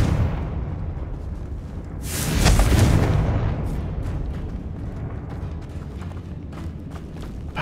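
A Confringo blast spell goes off in Hogwarts Legacy inside a decayed tomb, giving a single loud, broad explosive whoosh and boom that swells and then fades into a rumbling tail against a steady ambient background.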